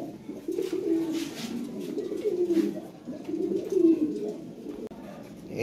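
Fancy crested pigeons kept for sale coo steadily in low, throaty rolling bursts, close by, with no talk over them.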